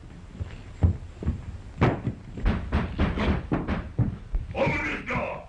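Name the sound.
door being banged on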